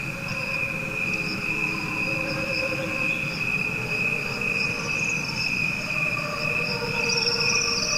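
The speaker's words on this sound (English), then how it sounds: "What you are hearing is a recording of crickets." Slowed-down recording of a chorus of crickets, a steady layered drone of sustained tones that swells and pulses continuously with no voices or instruments added.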